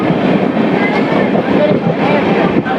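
A Haridwar–Amritsar Jan Shatabdi express train runs steadily on the tracks toward Ludhiana Junction, giving a continuous close rumble and rattle from inside the coach with no clear breaks.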